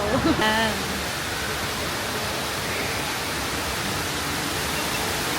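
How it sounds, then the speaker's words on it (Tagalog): A steady, full rush of falling water from an indoor waterfall inside Dubai Mall fills the space evenly, with a brief bit of voices and laughter at the very start. "Dito na kami sa may waterfall."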